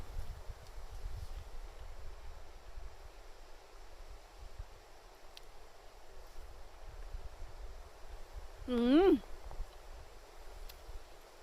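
Wind blows steadily outdoors in Swedish woodland during wild blueberry picking, a low continuous rumble buffeting the microphone, with a short wavering voice-like tone rising briefly near the end.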